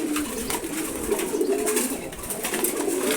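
Several pigeons coo in a loft, soft overlapping throaty murmurs near at hand, continuous and low, with faint rustling around them.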